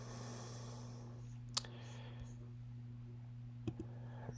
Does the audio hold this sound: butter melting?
no